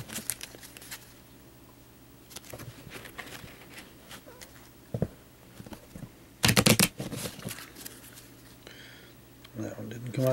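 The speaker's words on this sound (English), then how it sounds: "We'll give it some more shuffles here." Deck of playing cards being shuffled and riffled by hand at close range, soft papery flutters and taps scattered through the clip, with one louder riffle burst in the middle and faint background murmur.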